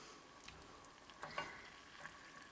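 Canned bacon browning in a pan, a faint, soft sizzle with scattered small pops and crackles, steady and quiet, with no voices.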